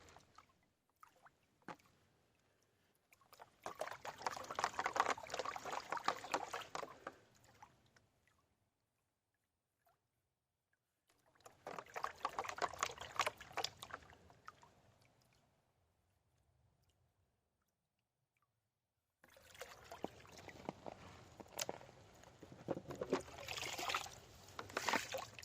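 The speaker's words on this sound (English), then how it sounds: "And I'm going to get some clear water in this pan." Water sloshed and swirled in a gold-prospecting pan outdoors in winter, three separate bursts of splashing and trickling with quiet pauses between them, no voices.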